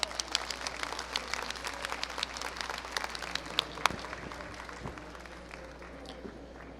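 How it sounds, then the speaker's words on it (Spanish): Audience applause for a writer at a journalism panel closing an international meeting, sparse and fairly faint, with individual claps scattered over a low room hum. "un aplauso para Juan Villoro"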